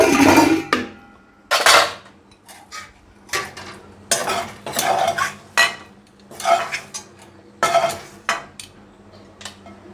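Shrimp being ground by hand on a stone grinding slab: about eight rhythmic scraping, knocking strokes, close and fairly loud, with quiet gaps between them.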